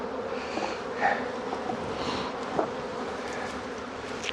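Honeybees buzz around a hive during a nuc installation, a steady, dense insect drone throughout with a few closer passes flaring louder near the ears.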